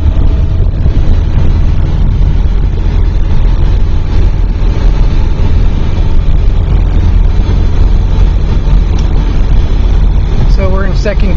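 A 1978 VW Super Beetle Convertible cruises in second gear at about 22 mph through a Scottsdale neighborhood, its engine a loud, steady low drone with wind rush, while someone talks over it.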